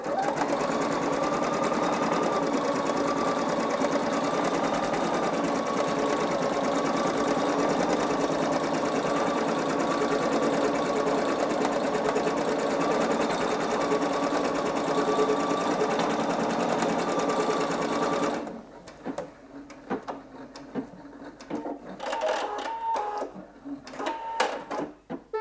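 A Singer EM9305 embroidery sewing machine stitches in a loud, continuous mechanical whir with a steady hum, running for about eighteen seconds before stopping abruptly, followed by quieter clicks and handling noises.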